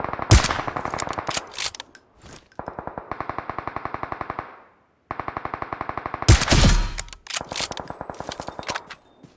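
Automatic gunfire in PUBG, loud rapid bursts with hard shot onsets and echoing tails, separated by short pauses, with no talking over the shots.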